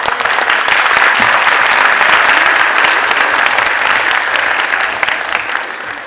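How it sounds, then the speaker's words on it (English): An audience gives a round of applause, many hands clapping in a loud, dense, continuous burst that holds steady and then tapers slightly toward the end. "How about a round of applause?"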